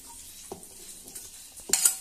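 Washed mutton with spices is stirred in a pot, with several scraping and clinking strokes of a spoon against the metal and a louder clatter near the end, close and alone.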